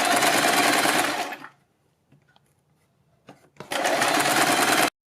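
A sewing machine runs in two loud, steady bursts of fast stitching on a neck design with buckram, separated by a quiet pause with a few small handling clicks.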